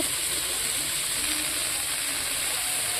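Coarsely chopped red amaranth greens being stir-fried in a pan produce a continuous, close, fairly loud sizzle and hiss, steady throughout with no voices.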